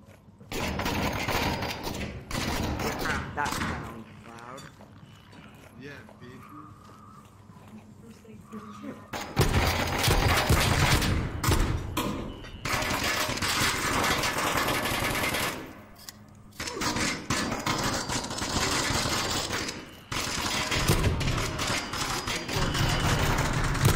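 Gunfire in the VR shooter Onward, heard as bursts of shots, thumps and reload clatter in a loud, busy game mix, with stretches of quieter ambience and some talking.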